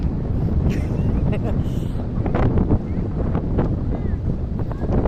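Strong wind by the sea buffets the microphone in a continuous loud roar, with gusts rising and falling throughout.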